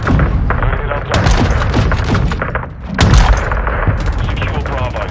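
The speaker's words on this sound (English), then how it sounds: "Hostile mortar right near your position." Gameplay of Modern Warfare II's open beta, where a hostile mortar strike lands near the player amid continuous machine-gun and rifle fire, heavy booming thuds cutting through the dense, loud battlefield din with radio callouts over it.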